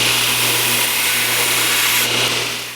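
Knife maker's belt grinder running steadily on a tilt table as bevels are ground into a production folding knife blade, a continuous loud whir with a hiss that shifts slightly near the end.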